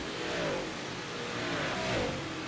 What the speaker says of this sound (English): maybe you can hear me better now that I turn those car sounds down